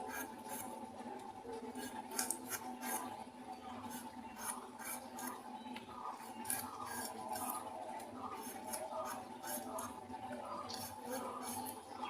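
A knife cuts pointed gourd (potol) in a fast, even series of faint clicks and taps against a board, held under a constant low household hum.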